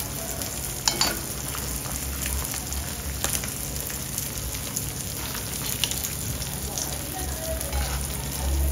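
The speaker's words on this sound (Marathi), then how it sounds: "तुम्हाला बॅकग्राऊंडला आवाज येत असेल, इथे आपली दुसरी मच्छी फ्राय होते" Surmai fish frying in a pan while a ghee roast masala is made at home, giving a steady, close, crackling sizzle that runs throughout with a few small clatters and no voices.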